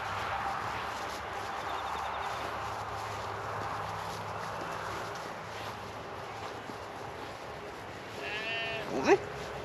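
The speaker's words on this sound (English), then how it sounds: "some sheep" A sheep in a field near a lakefront gives one brief bleat near the end, rising above steady wind and outdoor background noise.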